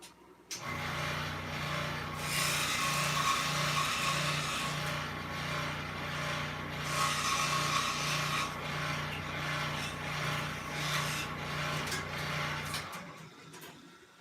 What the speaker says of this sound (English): Actually, I need to just cut a notch in this